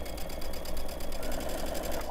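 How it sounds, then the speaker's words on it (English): A sewing machine runs steadily while stitching pajama fabric, a fast even mechanical whirr close by with no pauses. "And then I'll backstitch and then turn. All right, and up to the other side."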